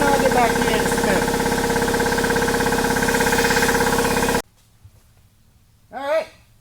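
A newly wired air compressor runs loudly and close, with a steady motor hum and rapid pulsing as it builds pressure, then cuts off abruptly into quiet, followed by a short spoken voice.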